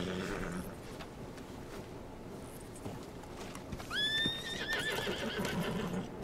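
A horse in the video game Red Dead Redemption 2 gives one loud, clear whinny midway, with clip-clop hooves and faint outdoor ambience before and under it.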